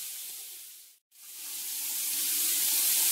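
Steady rush of water pouring from a sink tap, cut off briefly about a second in, then flowing again and gradually growing louder.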